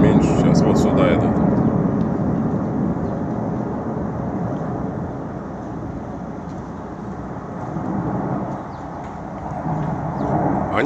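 Military jet aircraft passing overhead at an air show over Komsomolsk, a loud sustained roar that fades slightly midway and swells again, with someone talking over it.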